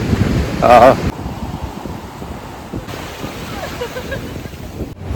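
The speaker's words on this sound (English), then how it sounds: "So we just reached the beach." Surf on the black sand beach below Varkala North Cliff, a continuous broad wash of waves with wind buffeting the microphone and a brief louder rush near the start.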